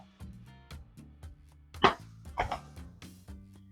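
A rotary cheese grater turning as cheese is fed in, giving short scraping bursts over a light rhythmic clatter, with two louder grating strokes partway through, close by and with no talking.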